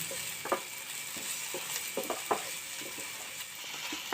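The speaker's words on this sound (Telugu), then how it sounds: "టమాటా సన్న కట్ చేసుకొని వేసుకోవాలి. టమాటా కూడా బాగా వేగాలి." Finely chopped tomatoes fry in a pan for tomato masala oats, making a steady hissing sizzle broken by scattered light scrapes and clicks of stirring, close and moderately loud.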